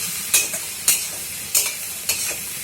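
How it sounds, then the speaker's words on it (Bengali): Spices, including cumin powder, sautéed over a high flame in a hot pan for a Bengali hilsa fish curry, with a spatula scraping and stirring in four sharp bursts over a steady close sizzle. "এই 2 মিনিট কষিয়ে নেব। ফ্লেমটা কিন্তু মানে বাড়ানোই রয়েছে, হাই ফ্লেমেই রয়েছে।"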